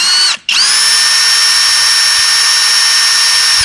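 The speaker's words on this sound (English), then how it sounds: "I do have a drill bit here, so I can get a starter hole before I screw that in." A power drill whirs loudly and close up, boring a small starter hole in metal house siding while fitting a wireless garage door remote. It gives a brief stutter, then settles into one sustained high whine.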